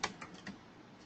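A few quiet keystrokes click on a computer keyboard, the first one the sharpest, then lighter taps trailing off within about a second.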